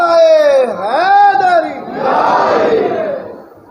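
At a religious gathering on Karbala, a lead voice calls out a slogan and a large crowd answers in a loud, unified chant, close and powerful, fading at the end.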